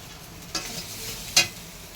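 A spoon makes two distinct scraping strokes through mankochu (giant taro) curry with turmeric in a pan, set over a low, steady sizzle.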